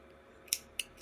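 Three quick, crisp scissor snips cutting yarn, spaced a fraction of a second apart, close and fairly sharp against a quiet background.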